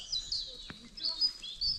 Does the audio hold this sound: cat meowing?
no